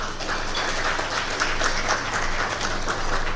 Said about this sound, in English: Let's give a better round of applause.